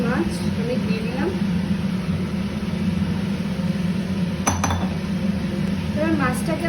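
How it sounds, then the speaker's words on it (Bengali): Four pieces of fish being turned in a pan of curry sauce, with scattered clinks and scrapes of a utensil against the pan, including a sharp knock midway, under steady close-up talking and a low kitchen hum. "এবার মাছটাকে আমি উল্টে দিচ্ছি যাতে মশলাগুলো ভালো করে পৌঁছায়।"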